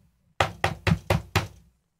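Five sharp knocks on a door in quick, even succession, close and clear against an otherwise quiet room.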